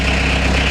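Peugeot 306 engine running with no exhaust fitted after being laid up for over seven years, a steady loud low idle rumble with constant vibration throughout, no other sounds.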